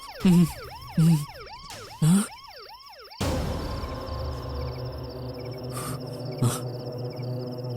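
A police van siren yelps in rapid rising-and-falling sweeps, broken by loud thumps, then gives way to a dense rumbling wash with a thin high whine.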